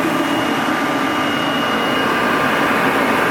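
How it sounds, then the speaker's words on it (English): A Gast Regenair turbine-style regenerative blower of about 10 horsepower, running on three-phase power, gives a steady, even broadband whoosh with a faint tonal whine, close by and constant throughout. "Turbine style blower, Whirlpool vacuum. We're running it on 223 phase right now."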